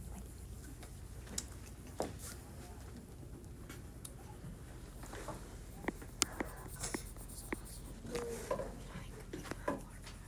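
A pencil writes and then shades on paper in a decimal-grid exercise, giving light, steady scratching with scattered small ticks and taps, close and fairly quiet, and no talk heard.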